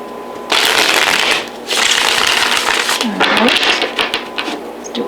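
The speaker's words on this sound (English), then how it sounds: "Couple more shuffles, make sure they're nice and mixed in there." A deck of cards is riffled twice in quick bursts, loud and close, followed by softer rustling and tapping as the cards settle.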